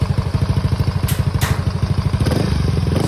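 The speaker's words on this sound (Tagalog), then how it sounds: "Tambucho lang ang maingay dahil si boss ay naka-Akrapovich na tambucho." Yamaha Mio i 125 scooter with a 135cc 54mm bore kit and Akrapovic exhaust idles nearby, a steady, loud, throbbing chug with an even pulse and slight clatter throughout, no speech.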